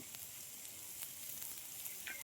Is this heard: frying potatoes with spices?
yes